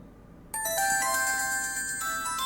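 After a brief hush, a bright electronic ringtone starts abruptly and rings on steadily with sustained chiming tones.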